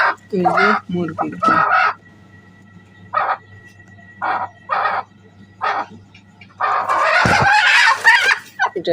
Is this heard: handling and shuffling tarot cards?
no